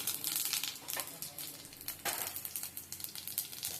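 Mustard seeds, cumin and urad dal crackle and sizzle in hot oil, with irregular popping bursts over a steady frying hiss, close and fairly quiet.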